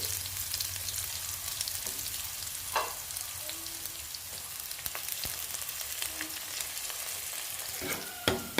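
Onion frying and being stirred in hot oil with dried chili and leaves for a Kerala mango pulisseri curry, a steady sizzle with scattered spoon scrapes and a sharper clink near the end.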